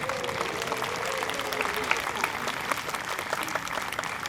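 Audience applause at an outdoor-style town band concert, a steady wash of many hands clapping at moderate distance, continuous throughout with a few louder individual claps standing out.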